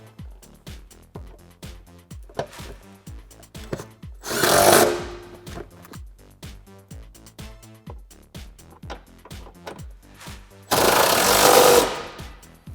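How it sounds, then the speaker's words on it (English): A power driver with a 1/2-inch socket runs seat bolts on a Mustang in rapid, chattering impact bursts, close and loud, with brief louder whirring spells between. "we're using a 1/2" socket on the 2 bolts up front"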